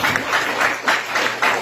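Applause for a pastor at a church gathering: a dense wash of many hands clapping, moderately loud and steady, swelling in a few brief surges.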